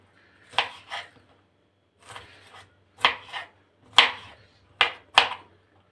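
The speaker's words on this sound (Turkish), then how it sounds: "Şimdi bir de şunu da doğrayayım." Sharp knife chops vegetables on a cutting board, single strikes and quick pairs spaced across a quiet room, close and crisp.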